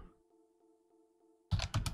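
Quick, close keystrokes on a computer keyboard as a file name is typed on Windows 10, a short burst of clicks following a faint steady tone.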